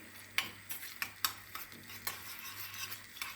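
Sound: tomato paste being sautéed in a pan

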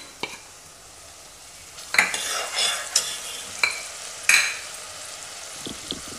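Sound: ginger garlic paste added to frying pan, sizzling

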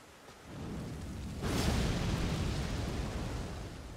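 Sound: Thunderstorm spell in Elden Ring video game

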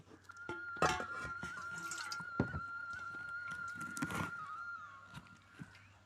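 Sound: water being poured into an aluminium pot

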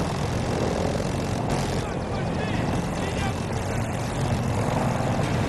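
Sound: helicopter in video game Battlefield 2042

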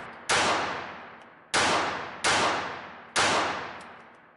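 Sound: gunshots from L.W. Seecamp 32 pistol firing PMC bronze ammo

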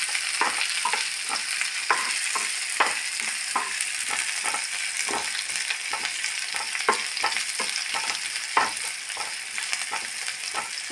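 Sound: bitter gourd frying in a pan

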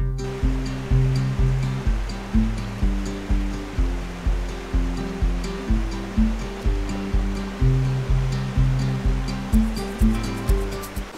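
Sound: river waterfall rushing

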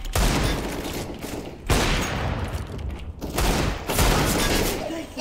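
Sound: AK rifle gunfire in a video game

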